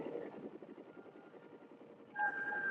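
A heavily armed Huey gunship helicopter flying in Vietnam, a steady rhythmic rotor chop that continues throughout at moderate level, with a higher engine whine rising near the end.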